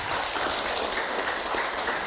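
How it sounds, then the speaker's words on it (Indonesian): An audience at an Islamic religious talk applauding together, a dense, continuous burst of clapping heard fairly loud and close, filling the whole moment without speech. "Tepuk tangan buat kita semua"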